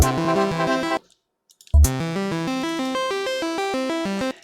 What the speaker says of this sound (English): It's a plucky sound